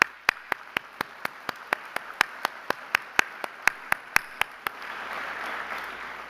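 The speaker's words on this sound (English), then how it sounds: "we want to definitely have a round of applause for them tonight" Sparse, isolated hand claps ring out one after another at a steady pace for a sponsor at an education awards celebration, each sharp and distinct rather than blending into full applause, before fading into soft room noise.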